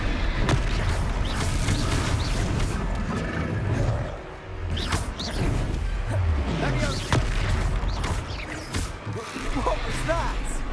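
A Confringo fire spell blasting during a Hogwarts Legacy battle, loud booms and crashing impacts in quick succession over a busy combat din, with voices briefly calling out between the hits.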